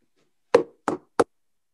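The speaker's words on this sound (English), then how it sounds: "when you hear me knock, you knock on this wall" Three sharp knocks on a wall, spaced about a third of a second apart, close and clear against near silence, the last one shortest.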